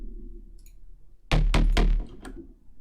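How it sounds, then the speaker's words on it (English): An unprocessed Serum preset bass growl from a bigroom track: a low hum gives way to three or four heavy, gritty synth pulses in quick succession, loud and close, then fades back to a quiet low drone. "So I have some bass growls"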